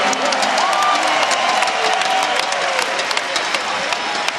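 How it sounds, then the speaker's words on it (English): A large arena crowd at a main-event fight between Arman Tsarukyan and Paulo Costa roars and applauds the winner, a dense wall of clapping and cheering with a few whoops and an announcer's voice over it. "A big round of applause in your main event tonight."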